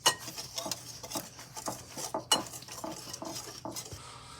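Banana muffin ingredients are mixed in a bowl, a utensil scraping and tapping against the sides in a quick, uneven rhythm, close and moderately loud.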